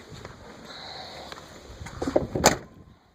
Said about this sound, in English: Sorry, I should have told you I was slamming the door.